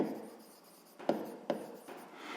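A pen scratches on paper during a sixth-grade maths exercise listing the divisors of 16, with short strokes and small pauses, close and quiet.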